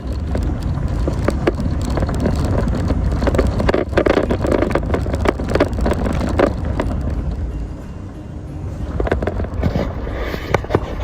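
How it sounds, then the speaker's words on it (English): A big tractor drives past on a country road, a loud, steady low-pitched engine rumble with broadband roar and wind buffeting that dips slightly near the end, with no talk. "Oh, there's a big tractor. There's a big tractor going right where I'm going."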